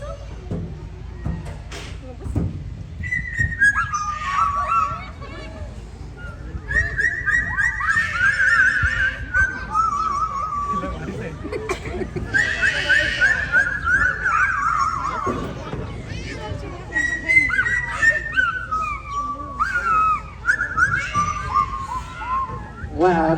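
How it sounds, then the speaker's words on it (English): A parrot at a wildlife safari park in Hamilton, Ontario whistles an improvised tune in bright, rising and falling phrases, set against steady crowd noise and some talk from people nearby. "Keep in mind when he whistles for you, different each and every presentation"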